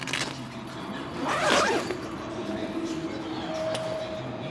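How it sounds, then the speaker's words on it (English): A zipper on a custom bimini top for a Lund Pro V boat is pulled down, giving a short, faint rasping zip partway through, set against steady outdoor background noise. "Here I'm going to release this and then zipper down"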